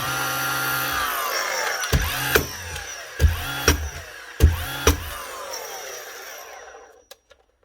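A cordless power tool under test during repair, powered through an adapter on DeWalt batteries, whines steadily with several sharp clacks and bangs over a few seconds, then winds down to silence with one last click.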